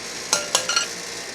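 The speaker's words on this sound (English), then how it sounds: "And let's mix up some of that PB2." A spoon stirring PB2 peanut butter powder mixed with liquid in a small bowl, three or four quick scraping clinks in close succession, close and brief with no talking.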